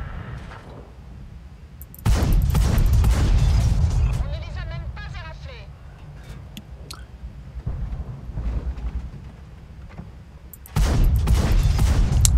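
Heavy gunfire from a video game weapon, loud sustained bursts near the start and end with a quieter stretch between them holding faint chirping and mechanical sounds.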